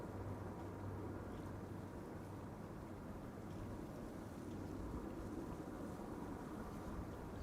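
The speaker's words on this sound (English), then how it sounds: "watch the next heavy crabbing its way over here. A300 600 DHL Banana" A DHL Airbus A300-600 cargo jet approaches to land in a gusty crosswind at Amsterdam Schiphol, its engines a steady, distant broadband roar with a low hum that holds evenly throughout, with no talk over it.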